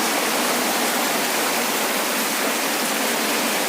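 Heavy cloudburst-like rain pouring over farm fields in Nanded district, a loud, unbroken roaring hiss that stays constant throughout with no voices.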